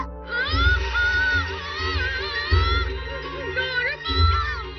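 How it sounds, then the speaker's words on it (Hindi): A cartoon monster cat bursts out of a box, letting out loud, wavering meows and yowls that rise and fall over several seconds, with dull thuds underneath. "बिल्ली, मॉन्स्टर बिल्ली, अचानक बॉक्स के अंदर से बाहर निकली।"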